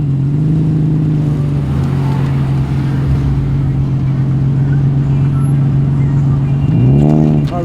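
A beastly-looking tuned Nissan arrives at the Penrith Cars Under the Stars meet, its engine holding a steady loud drone before a rising rev near the end, with crowd noise underneath.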